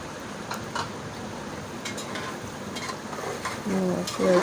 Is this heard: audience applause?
no